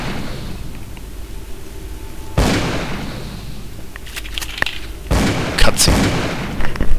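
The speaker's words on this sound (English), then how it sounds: "Oh, there's this one shooting out of the window." Gunfire in Call of Cthulhu: Dark Corners of the Earth, with two heavy booming shots followed by sharp cracks and a burst of rapid pops, loud and close over a low ambient rumble.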